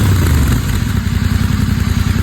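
A Royal Enfield GT 650 fitted with an RRP aftermarket exhaust and dB killer revs loud and close, a deep throbbing twin-cylinder rumble with a rapid pulsing beat that holds steady throughout.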